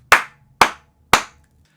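Three crisp hand claps spaced evenly about half a second apart, clapping the shaker part of a djembe groove, close and clear with silence between them.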